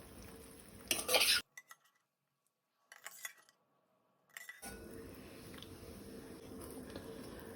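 A spoon stirs raw mango curry in a pot with a burst of clinking and scraping, then near silence, a few short metallic taps, and finally a soft, steady bubbling simmer.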